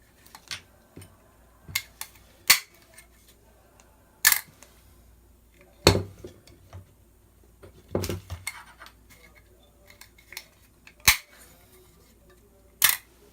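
Sharp mechanical clicks and snaps from a G&P gas blowback M16A4 airsoft upper receiver as its dust cover is pushed open, a dozen or so isolated, close, crisp transients spread unevenly over quiet background.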